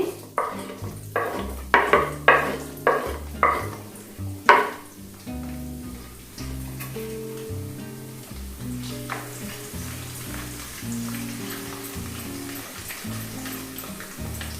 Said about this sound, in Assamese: নহৰুখিনি দি দিছো আৰু অকণমান ভাজি লম